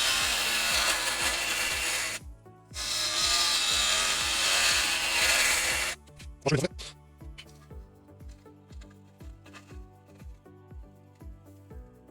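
A wood-turning gouge cuts a bowl of unknown wood with a knot and a split on a lathe, giving a loud, continuous scraping rasp broken by a brief pause. Then it stops, and rhythmic knocks and a low hum continue.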